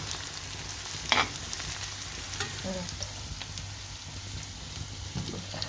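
Sautéed vegetables with a piece of salad pepper frying for rassolnik: a soft, continuous sizzle close by with a single sharp utensil clink and a few faint stirring taps.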